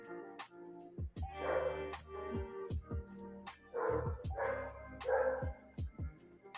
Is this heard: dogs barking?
yes